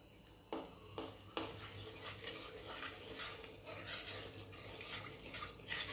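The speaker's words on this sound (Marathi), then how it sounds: "आता या तेलामध्ये अर्धा चमचा ही हळद घालायची आहे आणि ती हलवून घ्यायची आहे." A spoon stirs half a spoonful of turmeric into hot oil in a pan while making low-oil chivda, a Diwali snack. A few sharp metal clinks are followed by steady scraping and a soft oily hiss, close and moderately quiet.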